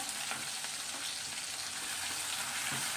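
Chopped onion frying in a pan for methi bhaji, a dense continuous sizzle heard up close and alone, with faint stirring throughout.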